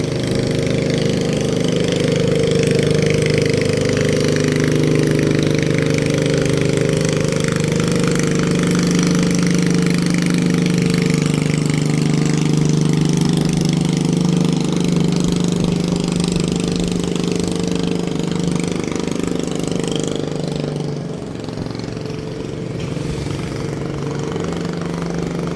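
A large boat's engine runs steadily and loudly for the whole stretch, a continuous low rumble with a slight drop in level near the end.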